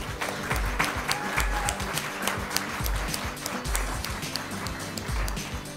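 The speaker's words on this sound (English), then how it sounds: "I want you to applaud yourself" An audience at a hospital ribbon cutting claps steadily, a dense patter of hands with sharper individual claps standing out, moderately loud and continuous with a faint murmur of voices underneath.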